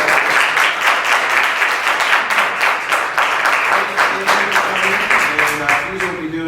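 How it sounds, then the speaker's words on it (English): A crowd applauds steadily, dense clapping filling the whole stretch, with a few faint tonal notes creeping in near the end. "Please give them a round of applause."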